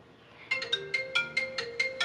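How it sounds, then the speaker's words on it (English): A work phone ringing: a short electronic ringtone of repeated quick beeping tones in an even rhythm, near and clear, starting after a brief quiet moment. "There's my work phone."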